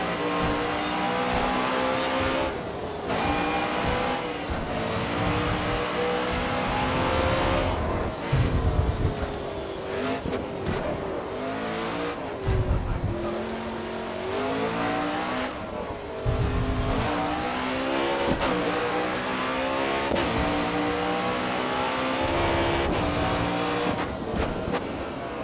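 A race car in the Grid Autosport video game accelerates and shifts through seven gears on a large street course, engine revving and whining continuously with pitch rising and falling across repeated gear changes.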